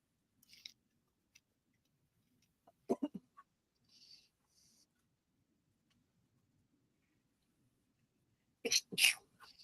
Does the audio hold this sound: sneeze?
yes